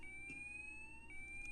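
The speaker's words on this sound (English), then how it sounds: "we were just memeing the fire alarm sound" A fire alarm rings in a Half-Life multiplayer mod, a faint, steady electronic tone repeating in two long pulses over low background noise, without speech.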